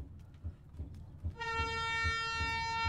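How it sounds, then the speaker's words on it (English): Video game train passing close by, with a rhythmic rumble of wheels, then a loud, sustained horn-like tone that holds to the end. "Oh god, I thought that train was about to hit me."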